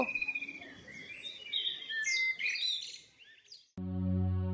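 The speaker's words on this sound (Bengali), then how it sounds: "এই কোয়েল পাখিটা আবার কোত্থেকে আনলি?" A quail chirps in quick, bright, repeated notes over a few seconds, fairly close. The calls stop abruptly and a steady harmonic tone follows.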